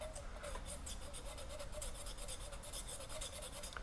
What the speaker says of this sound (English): get some about 1000 grit sandpaper, cut a little square, put it on your finger, and just try and polish that area around that air intake hole